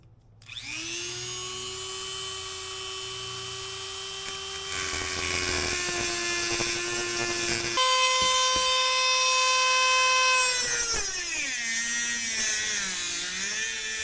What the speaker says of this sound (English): time to get the die grinder out